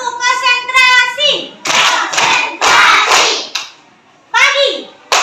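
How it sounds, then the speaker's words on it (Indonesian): Children play a rhythmic concentration clapping game in a classroom, sharp hand claps alternating with young voices chanting and calling out, loud and close. "Kita main tepuk konsentrasi aja mau? Siap ya? Nah, tepuk konsentrasi."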